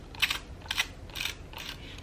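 A pump-up plant mister sprayer being pumped by hand, giving four evenly spaced rhythmic strokes, each a short airy hiss-and-click, fairly close and quiet with no talking.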